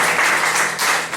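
A congregation at a church service bursts into brief, dense applause, loud, close and alone, lasting about a second.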